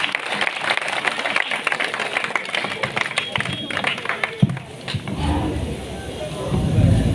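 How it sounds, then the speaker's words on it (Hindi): Audience clapping at a village student award ceremony in Bhagal, welcoming a guest onto the stage. Continuous applause from many people runs under crowd chatter and background noise, steady and fairly loud throughout. "बच्चे फिर क्या तालियों से इनका स्वागत कीजिए।"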